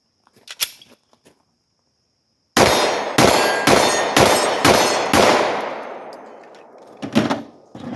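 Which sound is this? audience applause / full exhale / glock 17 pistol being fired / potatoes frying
glock 17 pistol being fired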